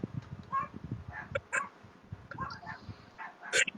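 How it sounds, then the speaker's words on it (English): Small dogs, a Yorkie poodle and a Chihuahua, bark and yip in short, sharp bursts nearby, with irregular overlapping yaps and a whimper-like cry. "Sorry, my dogs are barking."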